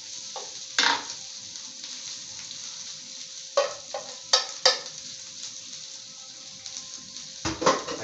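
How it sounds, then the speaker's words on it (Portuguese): Shrimp frying on a hot griddle for yakisoba, giving a steady close sizzle with a few louder bursts and light clattering of utensils on the metal surface, no voices. "o primeiro que eu coloco na chapa, né, é o camarão. Aí já começa já fritando,"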